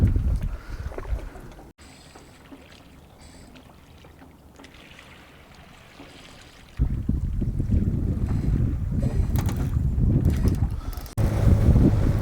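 A sailboat motoring under engine power in wind off the Scottish coast, a steady low engine drone with wind buffeting the microphone, quieter in the middle stretch, then louder and fuller for the rest.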